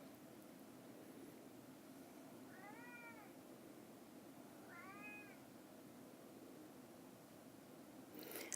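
A pet cat meows twice at moderate distance, each call a short rising-falling cry, over a steady background hiss in a quiet room.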